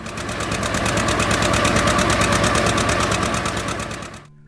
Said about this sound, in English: the distinctive roar of the John Deere 730, the tractor that many of us, true farmers, have driven